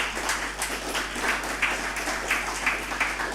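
A convention audience gives a round of applause, the clapping fairly quiet and somewhat distant, steady with scattered sharper claps standing out over a low hum.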